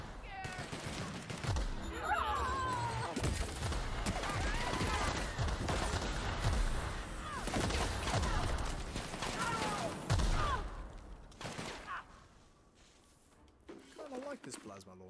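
A plasma launcher fires repeatedly in The Outer Worlds video game, a chaotic run of sharp energy blasts and impacts under near-constant talking that quiets toward the end.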